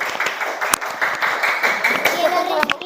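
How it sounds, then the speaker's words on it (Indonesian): A classroom group, Bunga Anggrek, receives a short burst of hand clapping from students, with voices talking over and through it. "tepuk tangan untuk kelompok Bunga Anggrek"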